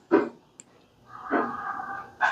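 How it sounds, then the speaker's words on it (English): Dog barking outdoors in a neighborhood: two or three short, loud barks, the first strong, then a longer whining howl and another bark at the end. "That dog. Somebody's dog is going haywire."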